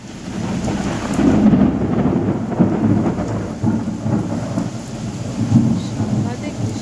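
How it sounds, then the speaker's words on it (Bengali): A fierce thunderstorm brings a steady roar of heavy rain with deep, rolling thunder swelling and fading across several seconds, loud and close, with lightning striking near a river. "শুধু বৃষ্টি হলে একটা হয়, কিন্তু এখানে শুধু বৃষ্টি নয়, সাংঘাতিক বাজ পড়ছিল"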